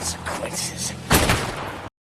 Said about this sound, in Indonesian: John Wick belum menembakkan peluru terakhirnya yang kemudian menembak kepala Marcus